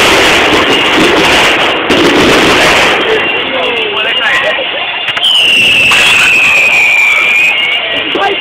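A fireworks display at Pope's Meadow in Luton pops, crackles and bursts continuously, close and loud, and a rising whistle follows near the end. People talk throughout.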